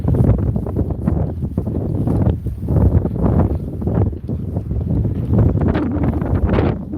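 Gusty, cold winter wind buffets the microphone on the Jersey Shore after a snowfall, a loud rumbling roar that surges and eases in waves.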